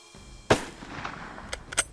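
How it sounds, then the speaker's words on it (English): A rifle is fired once at a Cape buffalo in tall grass, a sharp, close crack that decays quickly, followed by a few fainter clicks and knocks. "Reload, shoot him again."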